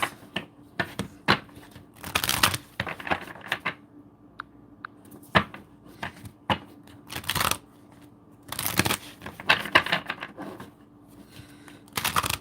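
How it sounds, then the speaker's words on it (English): A deck of tarot cards is shuffled in bursts of riffling and slapping, close and crisp, with short pauses between rounds of shuffling. "3 more shuffles."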